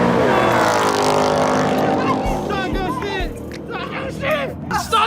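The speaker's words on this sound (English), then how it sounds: "Start your car." A loud Dodge Hellcat engine roars and revs with rising and falling pitch, mixed with shouting voices nearby.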